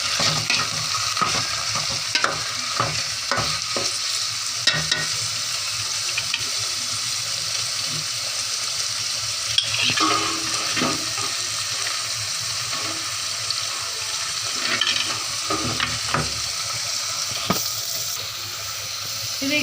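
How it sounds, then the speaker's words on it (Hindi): Washed chicken pieces sizzle and fry in a pan with browned garlic while a spoon stirs them, producing a steady hiss broken by frequent scraping clatters, close and continuous. "मैंने अभी चिकन इसमें ऐड किया है, तो अब इसे ब्राउन होने देते हैं"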